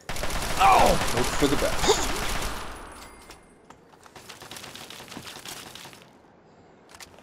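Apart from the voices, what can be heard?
gunfire in the video game Fallout 3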